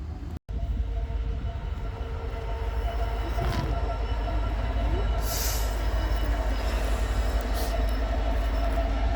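A train passes through the railway station at Tłuszcz, Poland, with a loud, steady rumble of rolling wheels and a brief high squeal partway through.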